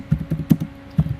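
A short run of keystrokes on a computer keyboard entering a command for a Django project, about half a dozen soft, close taps in an uneven rhythm with a brief gap, no speech over them.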